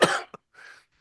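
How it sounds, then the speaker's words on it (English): A person coughs up close, one harsh burst followed by a short catch and a second, softer cough, with no talking around it. "That's why she keep coughing like that."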